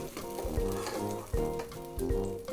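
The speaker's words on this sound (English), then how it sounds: "The pepper has gone into the oil, so we stir." Chili pepper sizzles in hot oil as it is stirred, giving a steady fry hiss broken by a few scraping, clanking strokes of the spoon against the pan, close and fairly quiet.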